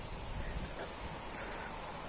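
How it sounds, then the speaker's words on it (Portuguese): Strong wind gusting across an open farm field in rural Ireland, a steady broadband roar buffeting the microphone continuously, loud and close throughout with no voices. "Olha o vento."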